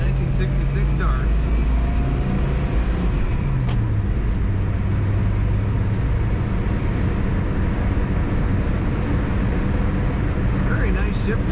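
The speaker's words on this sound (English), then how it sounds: "Very nice shifting, good throttle response, nice idle." A stock 1966 Dodge Dart drives through a roundabout. Its engine hum stays steady and close, and gear shifts and rises in throttle come through the road and cabin noise, with a voice heard in the background.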